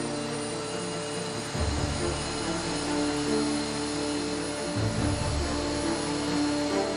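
A British Airways jet engine runs up during a ground test, a loud, steady roar with broad hiss and droning tones that surges stronger after about a second and a half and holds.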